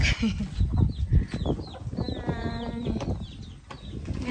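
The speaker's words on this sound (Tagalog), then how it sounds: "Ang daming manok." Many chickens cluck and chatter at a Philippine house. The clucking is close and busy, with wing flaps and short calls, and brief talk mixes in.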